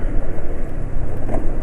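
A two-stroke motorcycle engine runs on fresh orange 2T oil with a loud, steady, rough drone that fills the whole short stretch, close to the listener, with no voices.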